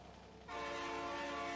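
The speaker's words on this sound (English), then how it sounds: "Train noises!" A train horn blares suddenly in the Factorio video game, a loud sustained multi-tone chord that cuts in after a quiet moment and holds steadily to the end.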